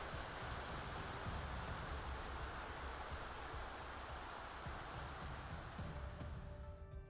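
Steady, dense rain weather effect from the village-building game Matsudaira's Myoshu, a continuous loud hiss of falling rain with no talk, fading slightly at the very end.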